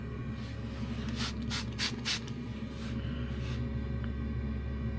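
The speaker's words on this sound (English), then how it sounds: "I'll take a soap down here and spray a couple connections." A few short bursts of soapy water spray hiss out in a row onto propane gas connections over a steady low hum, followed by quieter hissing.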